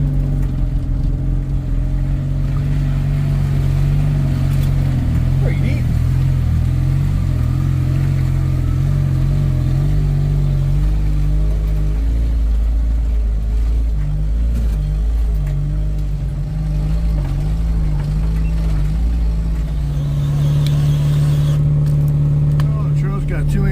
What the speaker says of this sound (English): Okay, boys got the Jeep running again.